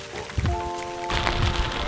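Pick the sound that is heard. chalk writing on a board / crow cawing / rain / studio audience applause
rain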